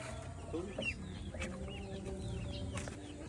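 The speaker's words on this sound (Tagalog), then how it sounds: "Meron pa pala kami dito mga ano, mga Rhode Island na manok." Rhode Island Red chickens on a farm cluck softly and irregularly, with several short calls overlapping against a quiet background.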